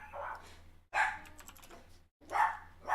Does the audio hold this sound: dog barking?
yes